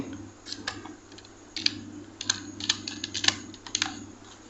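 Light, rapid tapping of entries into a government job application form on a mobile phone, a quiet irregular patter of soft ticks over a steady low hum.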